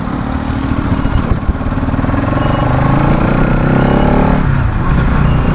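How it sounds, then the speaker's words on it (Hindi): An NS 200 BS7 motorcycle engine drones loudly while riding, its pitch shifting as it drops from sixth to fifth gear with a slightly sticky shift, engine note steady and close under rushing wind. "मैं अभी 6th गियर में हूँ तो इसको जस्ट मैं 1 गियर डाउन कर रहा हूँ, 5th गियर में आ रहा हूँ"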